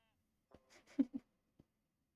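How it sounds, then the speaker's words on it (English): A few short, quiet bleats from a sheep in the video game Tiny Glade, spaced out over a second or so with a slightly stronger pair in the middle. "That sheep's having some trouble."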